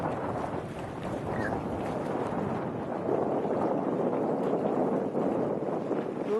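Steady wind blowing over open water at Shallow Bay on a choppy, swelling day, a continuous broadband rush like microphone buffeting, loud and unbroken, with no talk.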